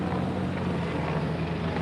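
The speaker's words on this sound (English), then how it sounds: "this helicopter just keeps on fucking going overhead" A helicopter flies overhead outdoors, giving off a loud, steady, broadband rotor and engine roar that fills the whole moment without fading, with no talk over it.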